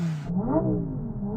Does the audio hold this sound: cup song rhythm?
no